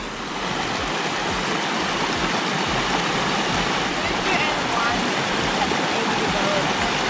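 Mesa Creek rushes past on the Pacific Crest Trail, a loud, continuous broadband roar of flowing water close by, steady throughout with no breaks.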